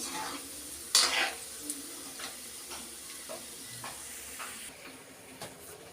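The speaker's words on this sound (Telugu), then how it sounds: "ఇలాగైతే దోరగా అయితే ఫ్రై చేయాలండి వీటిని" Gulab jamun frying in oil in a home kitchen, a steady low sizzle with a sharp splashy burst near the start and scattered soft crackles, no voices.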